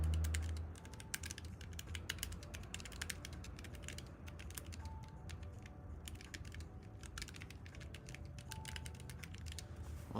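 Keys clack rapidly and steadily on a mechanical computer keyboard in a quiet room, a dense run of crisp close taps with brief pauses between, and no voices.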